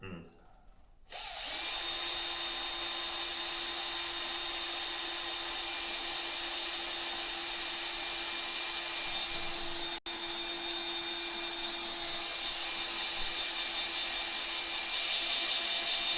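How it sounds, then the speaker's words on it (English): A power drill bores through sheet metal during an autosteer installation on a farm, running at low speed under heavy pressure with a steady, loud whine and grinding that hold with one brief break. "A lot of pressure and low RPM is usually good for metal drilling."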